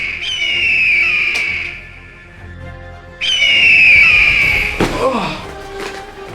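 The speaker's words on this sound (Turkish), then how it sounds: "Güvercinmiş lan. Bir de kartal sesi çıkarıyor utanmadan." A pigeon lets out two loud, close, eagle-like screeching cries, each a long piercing whistle that slides downward, with a brief gasp and a short rustle between them.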